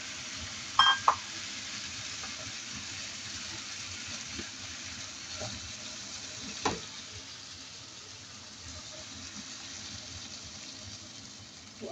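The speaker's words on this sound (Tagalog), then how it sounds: "Lagyan natin ng tubig." Water goes into a pan of simmering pork menudo with garlic, onion and ginger, a soft steady sizzle and bubbling with a few brief clanks of a utensil.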